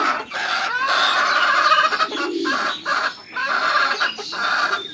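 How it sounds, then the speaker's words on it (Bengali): A hen settling to lay eggs clucks repeatedly up close, giving a run of loud, drawn-out calls with brief pauses between them. "ওই যে আমাদের মুরগি"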